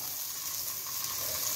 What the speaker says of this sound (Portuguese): Pra gente começar a fritar a nossa linguiça aqui